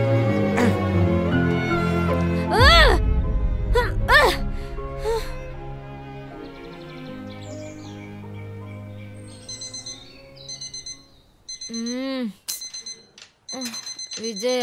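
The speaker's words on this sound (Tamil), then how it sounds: "அலாரம் அடிக்குது" An alarm clock rings with warbling, chirpy electronic tones, sounding in repeated bursts toward the end after stretches of music and other sounds.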